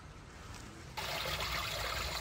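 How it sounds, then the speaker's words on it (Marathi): Floodwater pouring out onto a road during floods in Germany, a steady rushing trickle that jumps sharply louder about a second in, then runs continuously nearby with no speech. "हे इथूनच पाणी बाहेर येत आहे आणि वाहत वाहत वाहत"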